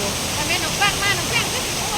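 Steady broadband rush of a falling waterfall, constant and enveloping, with a few faint higher tonal chirps drifting over it.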